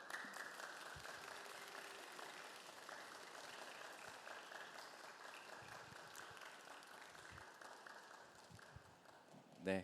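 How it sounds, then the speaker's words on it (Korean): A church youth-service congregation applauds a couple's wedding announcement, a steady, fairly faint patter of clapping running throughout with some voices mixed in, ending in a brief louder bump. "또 기쁜 축하의 박수로 함께 하실까요?"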